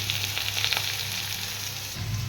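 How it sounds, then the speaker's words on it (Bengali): Potatoes frying in a wok give a steady, close sizzle with soft crackles and an occasional stir, with no voices. "এবার আলুটাকে ভাজবো"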